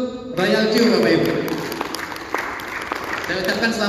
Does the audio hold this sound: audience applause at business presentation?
yes